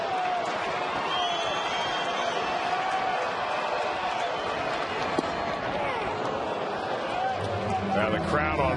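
Packed crowd at a Pirates versus Reds baseball game cheering steadily in the 12th inning with the bases loaded, a loud, sustained roar filling the stadium beneath a commentator talking.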